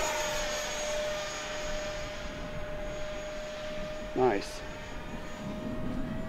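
A BAE Hawk in Red Arrows livery, a 50mm electric ducted fan RC jet, whines steadily overhead with a sustained high fan tone and a brief swelling pass; someone comments briefly.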